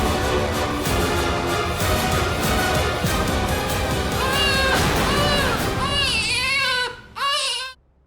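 A baby cries loudly and continuously in a domestic drama scene, wailing with rising and falling pitch, ending in a few sharp sobbing cries before quieting.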